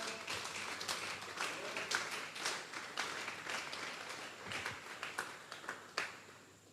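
Church congregation clapping during a Sunday service, a sustained round of applause with scattered individual claps, moderately distant and fading toward the end.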